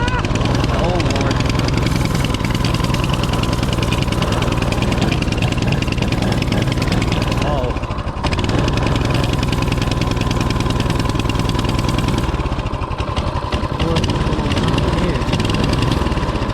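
Small mini bike engine running loud and close throughout a ride, a steady buzzing drone that briefly dips twice as the throttle changes, with talk over it.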